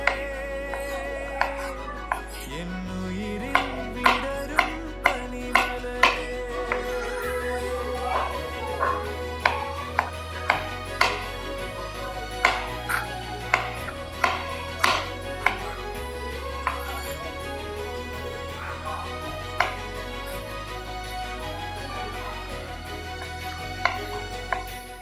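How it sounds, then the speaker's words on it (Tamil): Ripe jackfruit bulbs being cut into small pieces on a board, a run of sharp knife taps at an uneven rhythm over a low background hum and faint music. "நம்ம இந்த பலாசொலை துண்டுகளை சின்ன சின்னதாக கட் பண்ணி வேக வச்சுக்க போகிறோம்"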